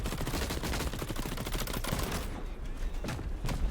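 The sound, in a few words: sniper shot in the video game The Cycle Frontier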